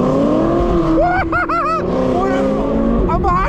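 Camaro engine and exhaust rumble steadily close by, heard from a following Kawasaki Ninja H2 motorcycle, with voices talking over it throughout.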